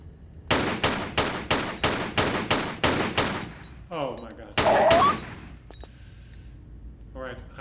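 Regular pistol-style bullet gunfire from Tomb Raider: The Last Revelation, as opposed to shotgun shells: about nine sharp, evenly spaced shots in a rapid burst, followed by a louder impact and scattered game effects.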